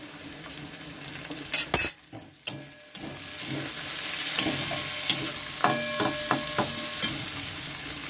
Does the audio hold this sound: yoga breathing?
no